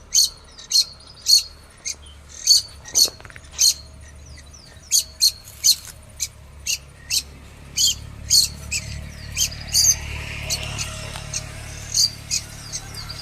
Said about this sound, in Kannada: ದೊಡ್ಡ ಹಕ್ಕಿ ಇವಾಗ ಜೋರು ಮಾಡ್ತಾ ಇದೆ ನಾನು ಇಲ್ಲಿ ಬಂದದಕ್ಕೆ